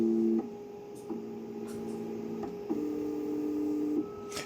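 An Anycubic Kobra S1 3D printer homes its axes with a run of steady stepper-motor whines that change pitch in several distinct segments, separated by brief clicks. The sound is close, mechanical and alone, with no talk.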